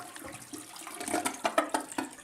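An American Standard toilet in a hotel room at Jay Peak Resort in Vermont flushes up close, a rushing, gurgling swirl of water that builds and churns steadily through the short stretch.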